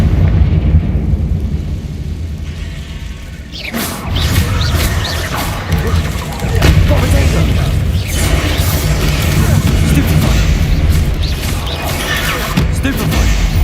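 Loud, booming blasts and crashing bursts from the Confringo fire-blast spell in Hogwarts Legacy, with a big impact near the start followed by sustained rumbling combat noise and a voice speaking over it.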